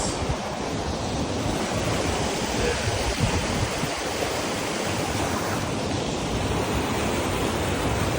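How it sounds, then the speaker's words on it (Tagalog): Okatse (Kinchkha) waterfall in Georgia roars as a steady broadband wash of falling water, moderately loud and continuous, with some wind buffeting and no talk. "Guys, there's a falls."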